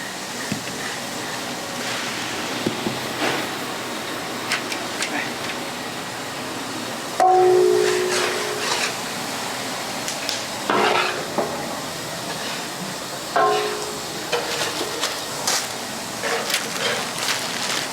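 Onions tipped into a hot pan of crushed shallots and green chillies for Kochi-style chicken biryani, frying with a steady sizzle and repeated close spoon scrapes and metal clinks against the pan, no talk.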